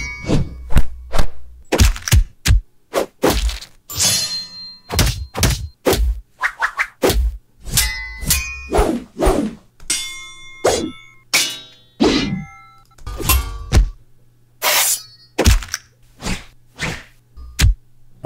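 Layered fight-scene sound effects of punches, body hits and landings on the ground come as a rapid, loud series of sharp whacks, thuds and swishes with brief gaps, close and without talk.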